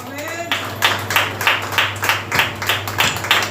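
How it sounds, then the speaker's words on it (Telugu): Congregation at a Telugu church service in Kurnool clapping loudly in a steady rhythmic beat, bursts of hand claps repeating about every third of a second, with a low hum running underneath. "గట్టిగా చప్పట్లు కొడదాం."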